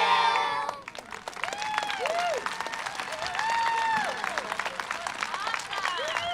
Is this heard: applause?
yes